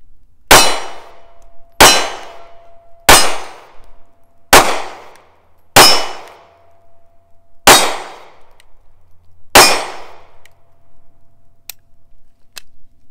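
Seven sharp, loud pistol shots from a Kahr P380 fired double action, spaced roughly a second or so apart in a steady rhythm, each with a short ringing decay, no talking.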